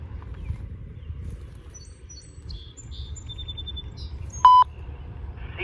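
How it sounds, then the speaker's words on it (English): A CSX railroad equipment defect detector sends a single short electronic alert tone over a radio scanner. It stands out sharply against faint background hiss and scattered high chirps. "Ready for a defect detector."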